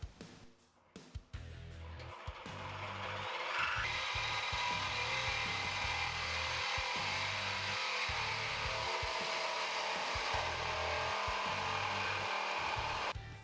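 A power saw cuts through the factory exhaust pipe of a 2016-2020 Chevrolet Camaro SS: a few short bursts give way to a loud, sustained high-pitched cutting whine, close up and alone.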